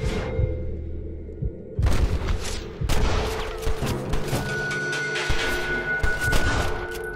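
Gunfire in the Western video game Red Dead Redemption: a loud, dense volley of shots and booms with sharp, overlapping cracks over a steady game backdrop, no voice.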